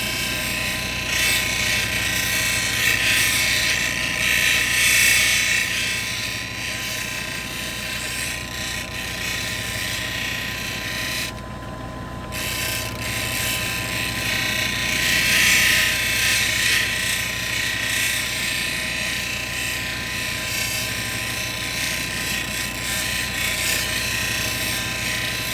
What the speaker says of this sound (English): I'm just kind of laying the stone up against the wheel and letting the wheel do its job.